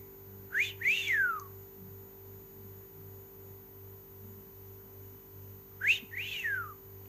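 A recovering galah, once poisoned, gives two bursts of sharp rising-and-falling whistles several seconds apart, close and clear over a steady electrical mains hum.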